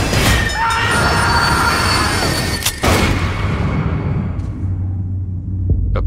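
A train rolling along rails, a loud, steady rumble with a sharp bang partway through that tapers off toward the end.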